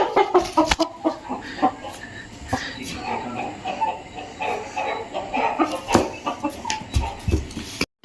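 Roosters on a village farm cluck and call at intervals, mixed with handling noises and nearby talk.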